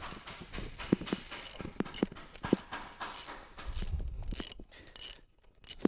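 An 8 mm socket wrench loosens bolts while a 1.9 TD engine's EGR valve is removed, giving a close run of irregular ratcheting clicks and small metallic knocks with no talking.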